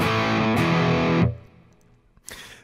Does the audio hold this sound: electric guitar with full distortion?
yes